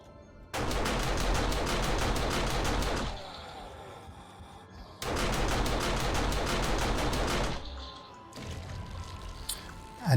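Auto turret in the video game 7 Days to Die firing rapid automatic rounds in two long sustained bursts of a few seconds each, steady and mechanical, followed by a shorter burst of clatter and an explosion-like thump.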